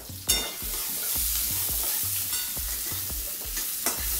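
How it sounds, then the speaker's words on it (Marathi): Onion sautéing in about a spoonful of peanut oil in a hot kadhai, a steady close sizzle broken by regular scraping stirs of a spatula against the pan, with no talking. "कांदा चांगल्या प्रकारे परतून घ्यायचा आहे।"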